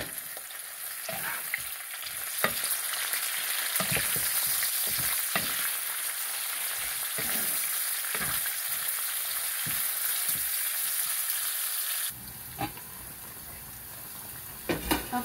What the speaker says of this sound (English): saute the ginger.